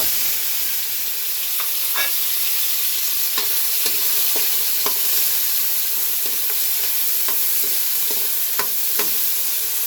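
Garlic sautéing in a pan for a home-cooked mung bean dish, with a steady loud sizzle throughout and scattered sharp clicks and scrapes of a utensil stirring against the pan.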